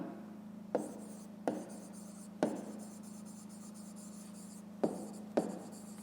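Handwriting on paper during a fifth-grade math exercise, heard as a quiet, steady scratching of pen strokes broken by five sharp taps or pen lifts at irregular intervals, with no speech.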